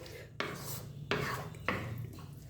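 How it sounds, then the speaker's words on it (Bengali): A spatula scrapes and stirs banana flower paste frying in oil in a pan over a medium flame, three distinct scraping strokes rising sharply then fading, close and fairly quiet. "মিনিট 2 সময় নিয়ে মিডিয়াম ফ্লেমে মোচা বাটাটাকে তেলের সাথে মিশিয়ে নিয়ে একটু কষিয়ে নিয়েছি।"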